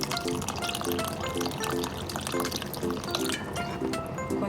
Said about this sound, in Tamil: இப்போ இதுக்கு தேவையான அளவு தண்ணி சேர்த்துக்கலாம்.